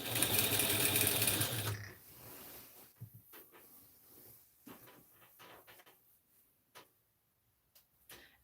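A sewing machine runs loudly in a fast continuous burst while stitching folded tape along a garment neckline, then stops, followed by scattered faint clicks and handling taps.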